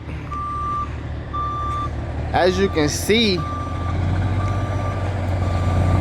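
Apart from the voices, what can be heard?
tow truck reversing beeps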